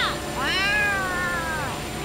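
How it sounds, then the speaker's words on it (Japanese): A cat in the video game Yakuza: Like a Dragon lets out one long, clear, drawn-out meow that rises and then slowly falls, loud and close over a faint background hum. "この泥棒猫その魚返しな"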